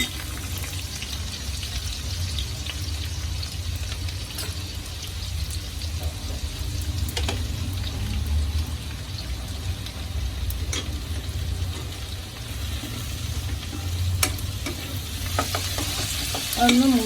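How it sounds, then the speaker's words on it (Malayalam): Ginger and garlic fry in a pan for samosa filling, a loud steady sizzle close by with occasional stirring scrapes and clicks throughout. "ഇഞ്ചിയും വെളുത്തുള്ളിയും ആദ്യം ഇട്ട് കൊടുക്കാം"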